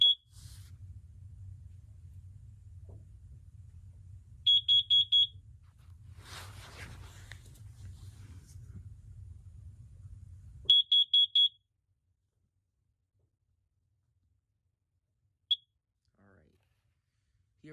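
A Kidde carbon monoxide detector with a sealed 10-year battery being tested, giving two separate bursts of four sharp, loud, high-pitched beeps over a low steady hum, followed by a single faint chirp.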